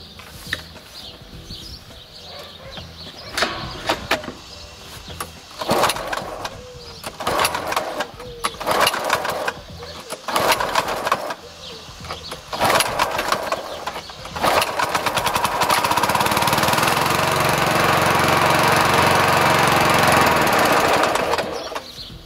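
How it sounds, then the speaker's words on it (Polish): A Tecumseh engine in a SABO lawn mower, restarted after three years of standing idle and suspected of a fault, sputters in uneven bursts before settling into a loud, steady running roar up close. "Posłuchajcie, jak ten silnik pracuje."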